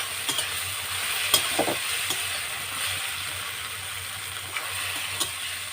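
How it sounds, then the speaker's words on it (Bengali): Onions sizzle steadily in a pan for Bengali-style khichuri while a spatula stirs and scrapes, giving sharp intermittent clicks over a constant hiss, close and without any talking. "আমার পেঁয়াজ ভাজা হয়ে গেছে"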